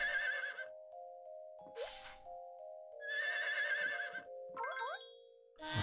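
Repeated synthetic horse whinnies from Harvest Moon: One World in bursts over a steady electronic melody, with short rising chime-like notes between them.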